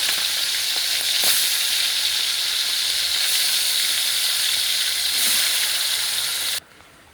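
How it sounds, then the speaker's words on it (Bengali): Shrimp frying in a pan, a steady loud sizzle and hiss of hot oil running continuously with a few brief stirring clicks, then cutting off abruptly near the end. "দেখুন এবার চিংড়িগুলোকে ভেজে নিয়েছি"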